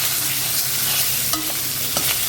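Raw mango pieces stirred in a hot pan with green chillies for a Bengali fish dish, giving a steady, close sizzle with occasional scraping taps of the spatula.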